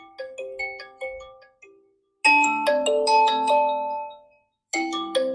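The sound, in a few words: phone speaker playing ringtone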